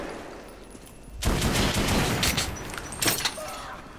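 Automatic weapon fire in the video game Metro Last Light, a quiet lull giving way to a loud sustained burst of rapid shots, then a second sharp burst near the end.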